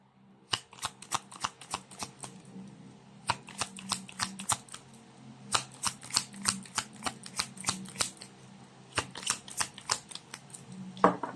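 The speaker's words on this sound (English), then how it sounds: "You saw me shuffle." A deck of cards is riffled and shuffled repeatedly up close, sharp crisp bursts of flicking cards in quick irregular bursts with short pauses between, no talk.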